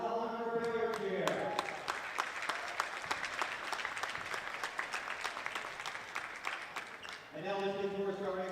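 Steady applause from a high school basketball crowd honoring the game officials, sustained for several seconds, bracketed by an announcer's amplified voice at the start and end.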